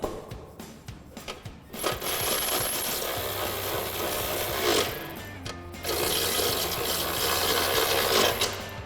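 A ratchet tightens two 18mm bolts with flat washers on a forged aluminum rear bumper for a Jeep Wrangler JL: a brief run of fast clicks, then a steady mechanical whir and rasp, close and fairly quiet, with no talking.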